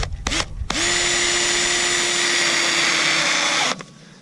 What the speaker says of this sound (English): this is just a sheet metal screw, 5/16 inch nut driver